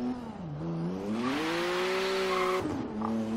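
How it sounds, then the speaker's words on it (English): Turbocharged BMW M2 drift build in Forza Horizon 3, its engine droning loud and steady with rising and falling revs, a brief shift-like dip near the end, tire noise hinting underneath. "I want to take a second to just appreciate the sound of this motor here."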